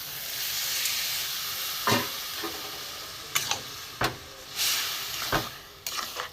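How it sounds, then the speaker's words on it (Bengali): Boiled mung beans are poured into a hot pan for a tadka and stirred, giving a steady sizzle with several sharp scraping and clattering accents close by. "মুগ কড়াইটা আমি সেদ্ধ করা অল্প করে দিয়ে আগে দিলাম। এবার আমি এইটা পুরো ঢেলে দেবো।"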